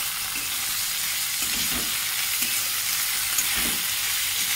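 Chopped onions and tomatoes sizzle in a pan over a gas flame, a steady close crackle with soft stirring scrapes recurring every second or so.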